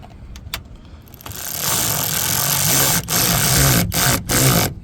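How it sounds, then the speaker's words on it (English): A bolt being driven back into the rear door of a 1997–2003 Ford F150, a few sharp clicks and then a loud, steady buzzing whir that cuts out briefly several times before resuming. "Let's go ahead and get our bolt back on here."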